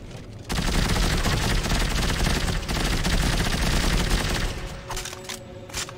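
Assault rifle fire in the Dead Space 3 video game: a loud, sustained automatic burst that runs for several seconds, ending in a few separate shots and a fading tail.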